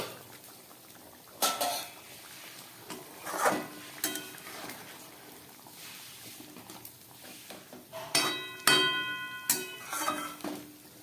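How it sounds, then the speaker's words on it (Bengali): A lid is lifted off a cooking pot of thin everyday katla fish curry, with a few sharp metallic clinks and clatters of lid against pot and utensils over a quiet simmering background. "এবার ঢাকাটা খুলছি।"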